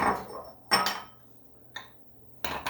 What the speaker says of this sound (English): So I'm going to go ahead and just stir this a little bit.